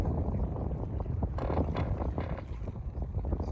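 Gusty wind buffets the microphone out on a reservoir, loud low rumbling bursts rising and falling over a few seconds with no speech.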